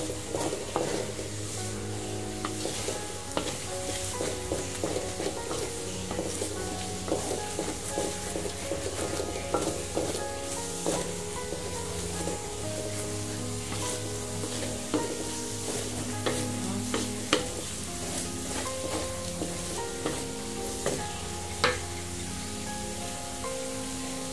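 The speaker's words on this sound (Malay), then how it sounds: "Kita masakkan seketika telur ni" Three eggs sizzle steadily in a hot pan while a utensil scrapes and stirs with frequent clicks and taps, continuous and close, no voices.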